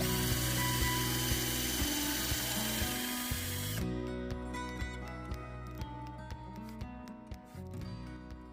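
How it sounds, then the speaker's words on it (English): A power drill with a 3mm bit bores through two stacked wooden pieces for a blanket ladder, a steady close whirring that drops in pitch partway through and keeps grinding with small rhythmic knocks. "I'm going to use a 3mm bit and I'm going to drill through both pieces at the same time"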